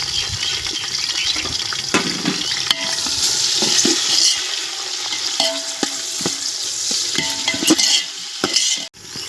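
Chopped tomatoes and onions sizzle steadily in hot oil in a pan for vegetable biryani, with repeated close spoon scrapes and clatters against the pan over the continuous frying hiss.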